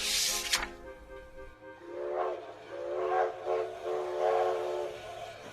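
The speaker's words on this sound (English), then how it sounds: "the train blew its whistle and began to move." A sharp, shrill steam whistle blast, then a long wavering whistle that swells in repeated surges over the low rumble of a train getting underway.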